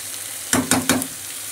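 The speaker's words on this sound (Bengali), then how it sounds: "আলু পেঁয়াজটা ভাজতে ভাজতে আমি সয়াবিনটাও দিয়ে দিয়েছি।" Potatoes, onions and soybean chunks fry in a pan, with three quick stirring scrapes over a brief sizzle before it settles to a low hiss.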